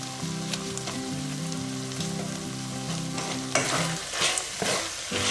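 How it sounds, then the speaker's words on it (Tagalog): Beef and broccoli fry in a hot pan with a beef cube stirred in, a loud continuous sizzle close by, with scraping stir strokes breaking through in the final seconds. "Haluin lang hanggang sa malusaw yung beef cube"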